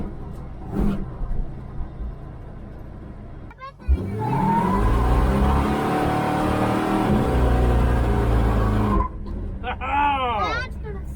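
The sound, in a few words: big block GMC truck engine revving and accelerating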